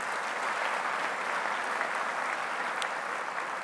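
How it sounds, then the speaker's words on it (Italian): Steady, dense applause fills an academic hall as the audience at a university inauguration ceremony greets visiting mayors, an even wash of many hands clapping without pause from start to finish. "Li salutiamo tutti con un applauso."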